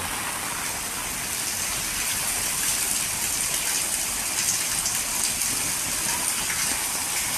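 Heavy typhoon rain pours down in a constant dense hiss and gush of water across a flooded street, loud and unbroken throughout.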